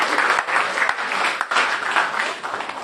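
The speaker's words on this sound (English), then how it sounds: "A big round of applause, please, for this tournament" Audience applause at a press conference for a business expo and charity golf tournament, a dense, steady wash of many hands clapping from a room full of people, fairly loud and continuous with no voices over it.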